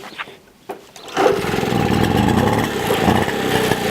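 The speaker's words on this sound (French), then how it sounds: "Donc on va redémarrer un petit coup là, si j'y arrive, on va y faire du pied comme ça." A Motobécane AV88 moped is kicked over with a few clunks before its small two-stroke engine catches and settles into a loud, buzzing, slightly uneven idle close by.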